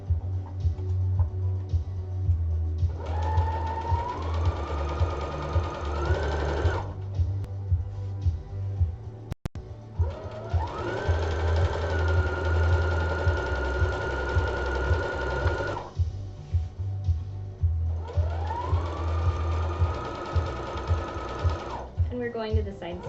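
A sewing machine runs three bursts of stitching along a skirt side seam, each several seconds long with a steady rising whir, separated by pauses, close and clear over a low hum.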